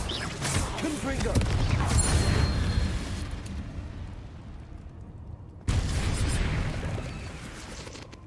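Fiery Confringo spell blasts from the Hogwarts Legacy video game burst out in a loud cluster of booming explosions, fade to a rumbling tail, then a fresh blast erupts near the end.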